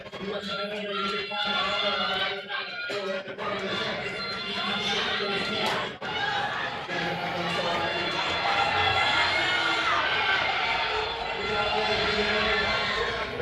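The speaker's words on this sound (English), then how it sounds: "get ready for a loud crowd. This place goes crazy for a 4x2" At an indoor track championship in Illinois, a packed crowd roars continuously through a 4x200 relay. The loud, swelling cheers and chatter run the whole time beneath an announcer's ongoing commentary.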